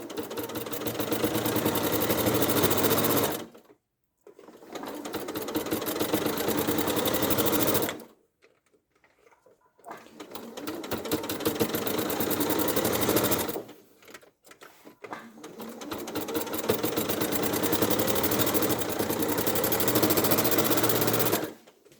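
A sewing machine runs through thick fur in four long bursts of rapid stitching, each a few seconds long and separated by short pauses, heard close and alone.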